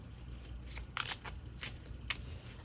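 Tarot cards riffle and shuffle in several quick bursts, close by, with a low background hum and no talking.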